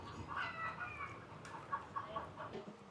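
Chickens clucking softly nearby in Luang Prabang, Laos, a scattered series of short clucks and calls with no talking.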